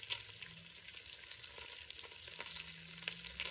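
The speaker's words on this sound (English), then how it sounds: "now in the medium temperature, I'm going to get a quick browning of these burgers" Hamburger patties brown at medium temperature in a Ninja Foodi, a steady low sizzle and crackle with scattered faint pops and a quiet background hum, no voices.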